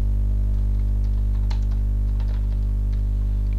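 Keys clatter on a computer keyboard in short irregular bursts of tapping, fairly faint and close, over a loud steady low electrical hum, with no speech.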